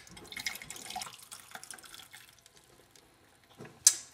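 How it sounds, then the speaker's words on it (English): Freshly boiled masala chai pours from a pot into a cup, a quiet, close trickle and gurgle that thins out, ending with a sharp clink. "so just pouring my tea in."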